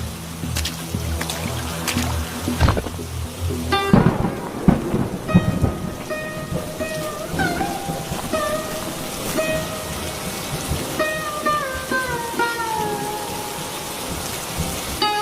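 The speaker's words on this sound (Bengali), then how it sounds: "বৃষ্টি হচ্ছে এমনি" Steady rain pours down while a deep rumble of thunder rolls through early on, with scattered drips and trickles continuing afterward.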